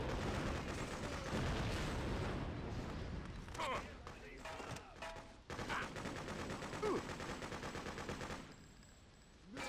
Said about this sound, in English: we do have a guy all the way up on top here, which is actually shooting down on our friendlies right now